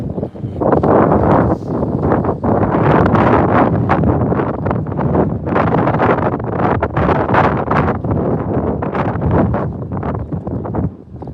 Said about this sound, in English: Right, wind hitting good today.